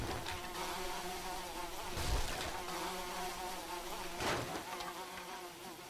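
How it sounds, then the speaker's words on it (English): Bees buzz steadily at beehives near a garden area in the modded 7 Days to Die video game, a dense close hum that swells and dips, with a few brief louder passes and no talk. "Sorry, these bees are very noisy."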